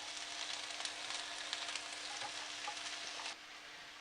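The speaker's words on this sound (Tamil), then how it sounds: "2 ஸ்பூன் அளவுக்கு எண்ணெய் ஊற்றி நம்ம இந்த வெங்காயத்தில் நல்லா வதக்கலாம்" Steady sizzling of onions frying in hot oil for mutton biryani, a dense crackling hiss that stays constant before cutting off near the end.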